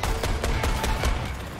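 Gunfire in the video game Suicide Squad: Kill the Justice League, a quick run of about six evenly spaced shots over a heavy low rumble, close and steady with no talk.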